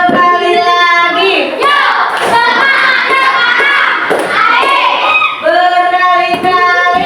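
A roomful of participants at an academic coaching session repeats a rhythmic spirit clap, with loud patterned clap bursts under energetic group chanting and voices.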